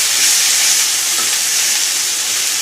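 Steady hiss of food frying in a pan while it is stirred, a continuous close sizzle with no talk.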